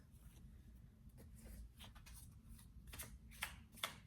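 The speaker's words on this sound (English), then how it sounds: "Let's pull more cards." Tarot cards riffled and shuffled in a quiet room, a series of soft papery flicks and slaps with a couple of sharper snaps near the end, close and faint.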